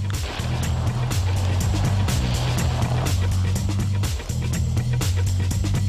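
A Range Rover Sport HSE drives off-road through deep water and loose ground, its engine droning steadily up close while splashing and rushing water noise fills the mix, with brief dips in the engine note.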